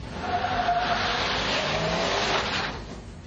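Four-wheel drive Dodge truck spinning its wheels on a slippery surface, a continuous revving engine with whining, squealing tyre spin over about three seconds, heard fairly close.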